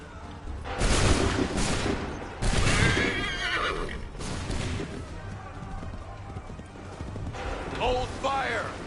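Musket volleys in the video game Assassin's Creed 3 crack out as several loud bursts amid neighing, whinnying horses and clopping hooves on a battlefield, with shouted commands nearby.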